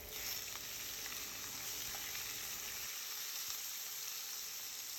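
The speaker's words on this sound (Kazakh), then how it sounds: "Майымыз қызған соң етімізді салып қуырып аламыз." Chicken meat frying in hot oil in a pan, giving a steady, close, dense sizzle that runs the whole time with no talk over it.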